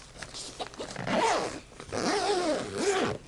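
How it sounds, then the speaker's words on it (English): A zipper on a fabric pocket of a kitchen sewing table is pulled in two or three quick rasping runs, close and clear, with brief pauses between strokes and no speech. "Zippers seem to work fine"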